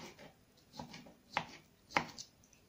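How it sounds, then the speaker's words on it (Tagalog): Knife chopping ingredients for spaghetti bolognese on a board in a home kitchen, a few sharp isolated strikes with quiet gaps between, fairly close and moderately loud. "hiwain muna natin yung mga sangkap natin"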